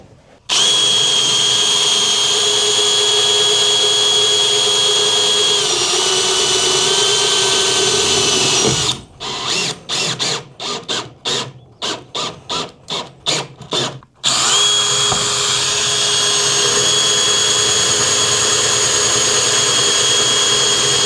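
Power tool driving a fastener into steel on a bus, whining steadily at high speed, then stuttering in rapid bursts as it struggles to bite before running smoothly again, loud and close with no talk.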